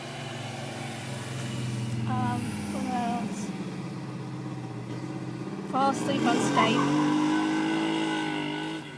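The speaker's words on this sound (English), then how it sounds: "Car coming by." A car passes, rising and fading as it goes by, while a person talks over it nearby.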